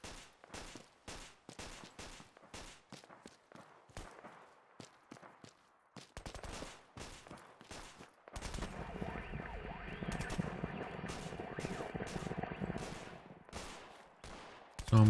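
Repeated 9mm gunshots crack in the Fallout 4 video game, sharp single shots in quick irregular bursts, then a denser stretch of sustained fire with a continuous rumble underneath.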